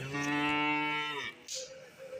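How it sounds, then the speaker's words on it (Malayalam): A cow lets out one long, loud, close moo at a cattle market where calves and milking cows are brought in, followed by a quieter second call, with no talk over it. "ഇവിടെ കുറച്ച് മോരിക്കുട്ടികളും പൈക്കുട്ടികളും പശുക്കിടാവുകളെല്ലാം കറവയുള്ള പശുക്കളൊക്കെ കൊണ്ടുവന്ന് ഇറക്കുന്നുണ്ട്"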